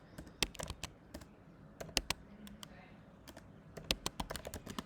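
Rapid bursts of keystrokes on a computer keyboard while code is written, irregular clusters of sharp clicks with short pauses between, close and fairly quiet over a faint room hum.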